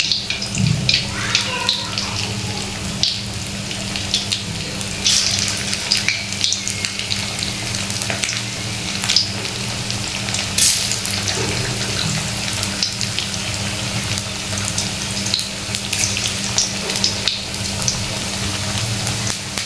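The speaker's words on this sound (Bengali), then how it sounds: "এবার আমি এভাবে ছোট ছোট করে দিয়ে ভেজে নেব।" Small pieces of a rice-based snack fry in hot oil in a pan over low heat, giving a steady sizzling hiss with occasional clinks and stirring noises, with no talk.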